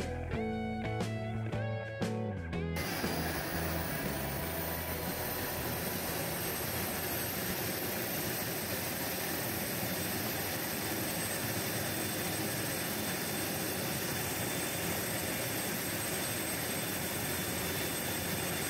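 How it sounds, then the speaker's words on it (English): A loud aircraft engine roars steadily at high power after a brief sputtering start, a dense continuous drone with no voices. "let's perform the engine run for this one too"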